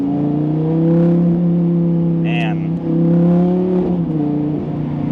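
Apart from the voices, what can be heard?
Audi R8 or Lamborghini Gallardo V10 engine revving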